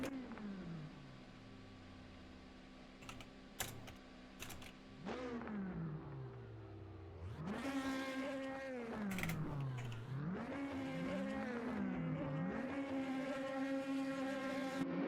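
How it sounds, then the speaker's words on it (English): Race car engines rev on the starting grid at Hockenheim ahead of the lights, with rising and falling harmonic engine tones that swell louder after a quieter opening and continue in repeated revving sweeps. "The camera behind captured our leader, revving his engine up as we have 6 lights."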